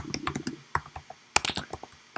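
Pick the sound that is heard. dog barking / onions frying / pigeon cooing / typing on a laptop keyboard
typing on a laptop keyboard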